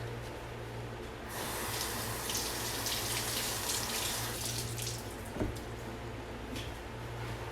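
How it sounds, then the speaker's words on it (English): Tap water runs into a kitchen sink as strawberries are washed, a steady, close gushing splash with small shifts as the fruit is handled, and nobody speaks. "I'm gonna go wash the strawberries really quick"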